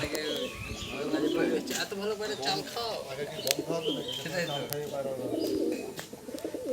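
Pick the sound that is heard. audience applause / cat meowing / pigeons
pigeons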